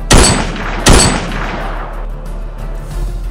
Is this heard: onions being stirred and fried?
no